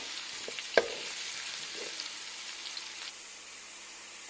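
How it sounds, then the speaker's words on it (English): Chopped onion fries in hot oil for a kheema peas curry, giving a steady soft sizzle with one sharp clink near the start and the hiss easing toward the end. "The oil is heated now, so we are going to add onion."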